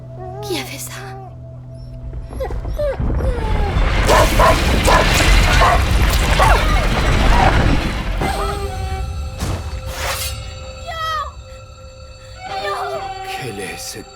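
A dog in the video game A Plague Tale: Innocence barks and whimpers in short, strained cries. The dog is heard under dramatic game sounds, and a character speaks throughout.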